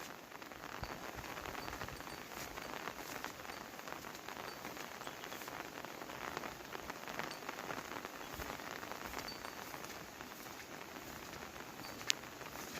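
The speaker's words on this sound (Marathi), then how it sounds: "पाऊस चालू झालाय परत" Steady rain falls on the Konkan countryside where cows graze, a soft, even patter that stays constant and fairly distant, with one brief knock near the end and no talking.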